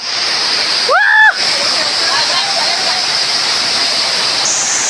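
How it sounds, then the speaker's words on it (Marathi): Waterfall near Bhimashankar in monsoon rain, a steady loud rushing roar of falling water throughout, with a brief voice cutting in near the start. "धबधबा."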